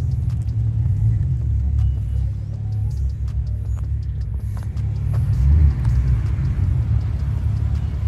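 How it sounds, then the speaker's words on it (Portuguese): A delivered BMW car arrives at a shop door, its low engine rumble steady and fairly close throughout, swelling briefly near the end as it draws up. "chegou o carro"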